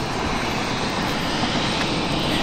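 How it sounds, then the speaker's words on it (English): A very large helicopter starting up at a military base nearby: loud, continuous engine roar with a dense whine, steady throughout. "they are starting a ginormous helicopter up over there"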